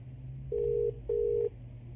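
A telephone call rings out as two long, even electronic tones with a short gap between them, quiet and clean against a low background hum and no voices.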